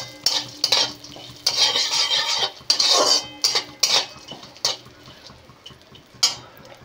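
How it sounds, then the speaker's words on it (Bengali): Sunflower, melon and pumpkin seeds dry-roast in a pan, stirred with a utensil that scrapes and rattles in repeated bursts against the metal, a faint sizzle underneath and no speech. "এবার এগুলোকেও আমি হালকা করে ভেজে নেব"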